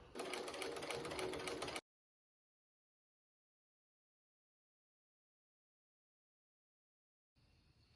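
Sewing machine stitching along a fabric edge while making a clothing thrift flip: a steady, dense whirring run of nearly two seconds that cuts off abruptly, a long silence, then a brief burst of machine noise resuming at the end.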